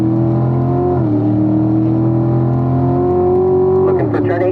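A race car accelerates at full throttle on a track, its engine a loud, close, steady drone that climbs in pitch, then drops briefly at a gear change near the end.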